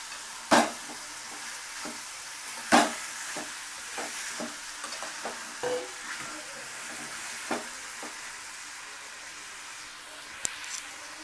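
Onion pieces stirred in a sizzling pan for Chettinad chicken curry, with a steady frying hiss broken by sharp scraping strokes of the spoon against the pan, close with no talking.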